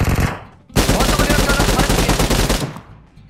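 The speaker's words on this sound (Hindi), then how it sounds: "अबे गन फाइट हो गया।" Rapid automatic gunfire in a video game gunfight, a short burst then a sustained loud rattle of shots lasting about two seconds before fading out.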